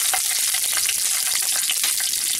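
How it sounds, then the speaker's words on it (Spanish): Green chile frying in oil for a Mexican-style lentil dish, a steady close sizzle and crackle that runs without a break and without talk. "vamos a tomar nuestro chile verde y lo vamos a freír un poco también"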